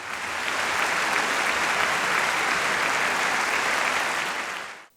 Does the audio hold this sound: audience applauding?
yes